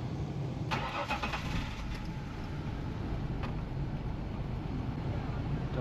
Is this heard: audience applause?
no